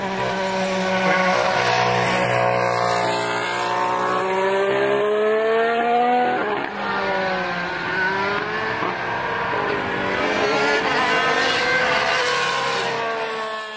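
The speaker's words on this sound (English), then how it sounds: "The first car on track was not a Formula 1 car, but rather a Skoda Octavia" A Skoda Octavia drives a lap of the Jerez circuit, its engine loud and close, the pitch climbing and falling through gear changes with sustained revving across the whole stretch.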